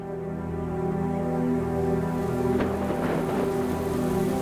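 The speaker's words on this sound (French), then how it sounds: "Avec l'arrivée de la pluie, le Linyanti se transforme en une plaine inondée." Steady rain pours down across the Linyanti plain in the wet season, a dense even hiss close by, with a faint roll of thunder rising midway.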